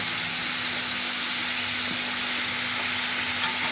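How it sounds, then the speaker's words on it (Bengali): Spiced masala sizzles steadily in hot oil in a pan while being stirred, giving a continuous even hiss with faint scraping, heard alone and close. "মশলাটা একটু নাড়াচাড়া করে পুরো কষা কষার মধ্যে হয়ে গেলো, মশলাটা তেলটা একটু ছাড়া ছাড়া হয়ে গেলো"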